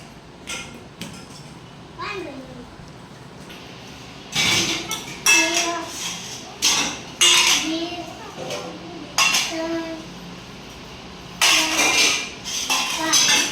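Plates and dishes clinking as five are carried over for a group of children, sharp clatters in several bursts with children's voices chattering around them.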